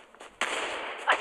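Sharp gunfire bursts in the Omega Legends mobile shooter game on Android: a few quiet pops, then a loud sustained blast of shots with a final louder crack, close and without talk.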